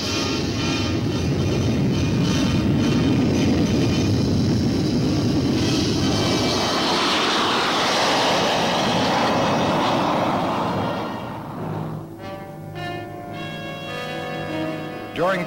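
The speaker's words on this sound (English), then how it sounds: "Note that on the takeoff roll, the outrigged gear drop off as the plane picks up speed." A U-2 reconnaissance aircraft on its takeoff roll, a loud sustained jet engine roar filling the scene for most of the clip, then easing off and fading as the plane gets farther away.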